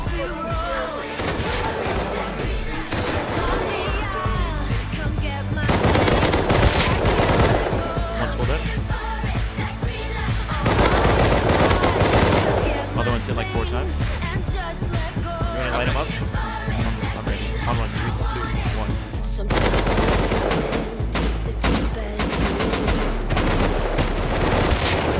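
Loud, dense AK rifle gunfire in the video game Rust, sustained and booming throughout with overlapping shots and heavy low rumble, mixed with voices talking over the action.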